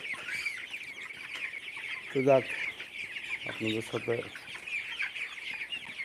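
Broiler chickens on a farm, clucking in short bursts, the loudest around the middle of the clip, over a steady background hum, with someone talking briefly.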